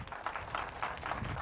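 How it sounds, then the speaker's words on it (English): Applause from a school gathering of students, staff and parents at an earthquake drill event, heard as a steady, fairly distant wash of clapping with no clear individual claps. "give yourselves a big round of applause for that"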